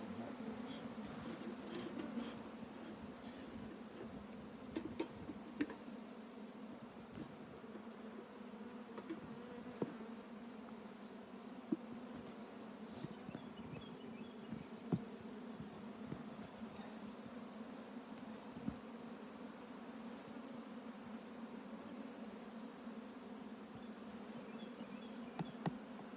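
Honeybees from an opened hive colony drone in a steady, dense buzz that fills the whole stretch, with scattered individual bees zipping close by and small bumps from handling the frames.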